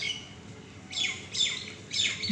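A bird gives three loud, harsh squawking calls in a row, close by and evenly spaced, over faint background noise.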